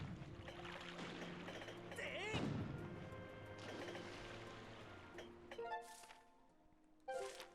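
Booming pirate-ship cannon shots in The Legend of Zelda: Skyward Sword HD, several heavy blasts amid busy game noise and music, with a louder burst near the middle.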